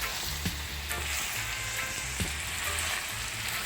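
Ackee and salt mackerel sizzle steadily in a frying pan, a continuous close crackle broken by a few soft knocks of a spoon as the mixture is gently stirred.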